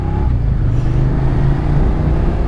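A Suzuki SV650S motorcycle engine from 1999 to 2002 rumbles loud and steady up close, with a deep continuous throb and no talking.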